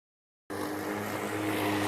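An electric-converted lawn mower motor starts abruptly after silence and runs at a steady, loud, broadband whine with a constant hum, close by and alone.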